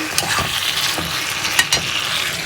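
Fish is fried and stirred in a pan, kept close by, with a constant hiss of sizzling oil and a few sharp scraping strokes of the spatula, and no voices.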